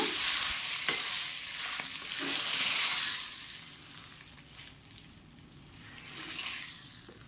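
Tempering sizzles loudly in hot oil for a leafy greens dal, a steady hiss with spoon stirring, swelling and easing over several seconds.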